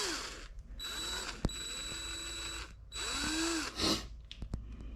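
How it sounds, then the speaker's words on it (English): A power drill whirs in several bursts, winding up and down as it bores out bolt holes in a metal rear A-arm for a Polaris RZR 900, with sharp clicks and clanks between runs. "I had to drill the holes out in the bottom arm to get the bolt to fit through"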